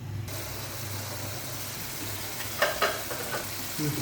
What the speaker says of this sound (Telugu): ఇదైతే రొయ్యలు బాగా ఫ్రై అవుతాయండి బాగా ఫ్రై అవుతాయి